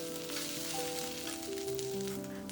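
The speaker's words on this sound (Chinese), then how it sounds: "加入粿条，快速翻炒一下，把面条摊开" Noodles and kway teow stir-fried in a hot wok for a 1960s-style fried kway teow, giving a dense, continuous sizzle that stays loud and even, with music playing underneath.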